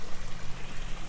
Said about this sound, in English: you can hear the pump turned on. And now we have a waterfall.